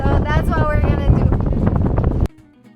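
Strong wind buffets the microphone on a boat leaving the port of Marseille, a loud roaring rumble under a person talking, then it cuts off abruptly into a quiet hum.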